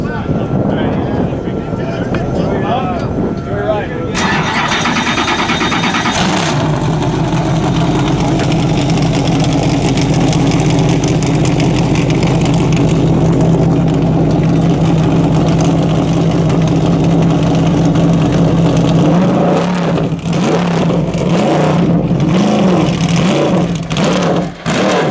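A Cadillac CTS-V coupe World Challenge GT race car engine idles with a deep, steady rumble at Homestead-Miami Speedway, rising in pitch as it revs, with a person talking over it near the start.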